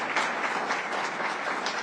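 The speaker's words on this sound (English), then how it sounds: "Let's give a special round of applause to Marilyn Simons." Brief burst of steady, moderately loud audience applause at a university event on artificial intelligence, dense clapping from a crowd with no voices over it.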